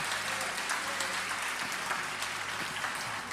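A church congregation claps during a Portuguese-language sermon, a steady dense wash of applause filling the whole stretch with no speech over it.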